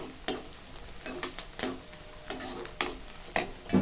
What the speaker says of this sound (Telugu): కొంచెం చెక్క మంచిగా కలుపుదాం.